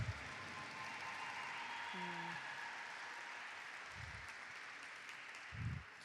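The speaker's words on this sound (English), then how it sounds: "If we can get a round of applause for All Nations Drum" Faint, distant applause from an audience at a 2021 American Indian Heritage Month celebration, honoring the All Nations Drum, forms a steady, soft wash of clapping with a few low thumps and murmurs mixed in.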